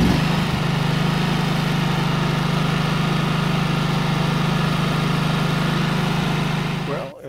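A neglected 1998 Yazoo YTKC22 three-wheel mower engine runs with a steady, loud droning hum, holding constant before sputtering down and cutting out near the end.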